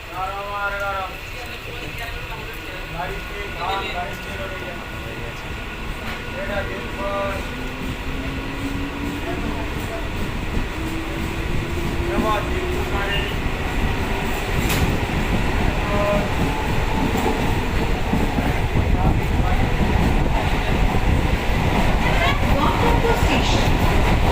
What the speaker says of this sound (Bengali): ট্রেনটা ছেড়ে দিয়েছে